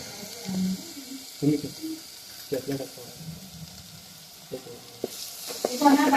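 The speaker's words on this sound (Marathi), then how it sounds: "मसाला भाजल्याचा वास मस्त येते तिखट मसाले सगळे टाकून घ्यायचे आपल्याला आता" Spice masala roasting in a pan for a mutton dish, with intermittent sizzling and stirring scrapes between short bursts, while people talk nearby.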